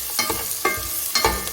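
Green chillies fry in a pan with tomatoes while being stirred for a boneless chicken dish. Three distinct stirring scrapes cut through a steady close sizzle.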